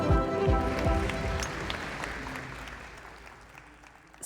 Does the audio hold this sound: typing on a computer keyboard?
no